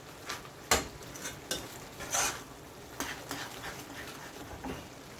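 Grated coconut and sugar stirred in a pot for Jamaican grater cake, giving a run of irregular scraping and clinking strokes of a spoon against the pot, close and fairly quiet, with no talking.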